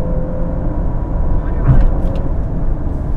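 A Maserati Grecale GT launches in drag race mode and accelerates hard, a steady engine roar with a brief jolt at a gear change, heard from inside the cabin while someone talks over it.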